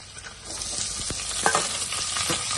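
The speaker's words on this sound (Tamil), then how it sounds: "வெங்காயம் நல்லா வதங்கட்டும்." Chopped onions sauté in hot oil for a Kerala clam fry, giving a steady close sizzle with occasional scraping stirs and soft pops.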